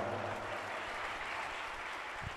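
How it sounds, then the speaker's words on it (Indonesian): At a Maulid Nabi celebration and graduation at an Islamic boarding school, a crowd applauds the children with a faint, steady wash of clapping that sounds distant and carries no talk. "Tepuk tangan untuk anak kita semua."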